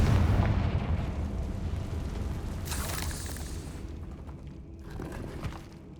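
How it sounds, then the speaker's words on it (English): A Confringo explosion spell cast in the video game Hogwarts Legacy, a deep rumbling blast that starts loud and decays slowly, followed by a smaller burst near the end. "Well, I'm using explosions anyway."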